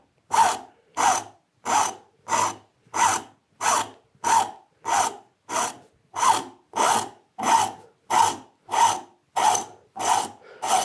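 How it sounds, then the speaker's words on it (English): A hand rasp shapes a wooden stool leg in steady, even strokes, about sixteen rhythmic scraping passes close up, with no talking. "All the way over to just past the middle with this fellow, with this rasp, and then refine it with the flat file."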